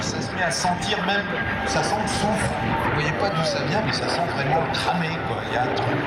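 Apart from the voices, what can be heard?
No everyday noise stands out behind the speech.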